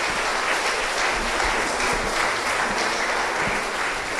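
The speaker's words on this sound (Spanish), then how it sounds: "Vamos a recibir con un fuerte aplauso, hermanos." A church congregation applauds loudly to welcome a pastor, with thick, continuous clapping that fills the room evenly from start to finish and no speech over it.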